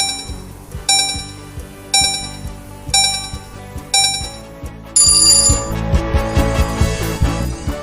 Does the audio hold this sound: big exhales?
no